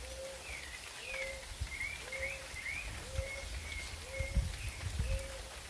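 Birds sing outdoors, thrushes (sabiás) and pigeons among them, with a repeated whistled phrase about once a second and higher chirps above it, over a soft steady background hiss.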